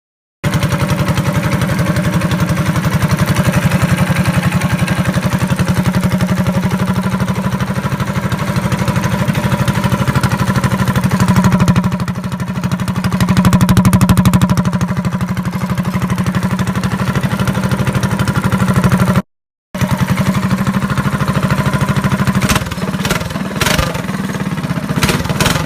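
A 212cc go-kart engine with its governor removed runs loudly and close by in cold weather, a steady buzzing drone that rises and falls with throttle and cuts out briefly before starting again.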